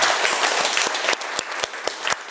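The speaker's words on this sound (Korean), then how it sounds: "다시 한번 격려의 박수로." A church congregation applauds after a sermon, a dense burst of clapping that fills the room before thinning out into scattered, separate claps.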